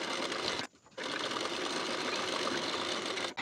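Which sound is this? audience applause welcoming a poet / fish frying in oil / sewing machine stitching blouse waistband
sewing machine stitching blouse waistband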